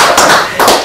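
A crowd at a political federation meeting claps in short loud bursts, close and dense, with a brief dip before a second swell.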